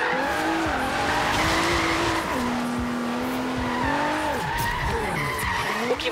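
Tires squeal continuously through a drift in a Camaro SS in Forza Horizon 3, a loud wavering screech over engine roar with no pauses.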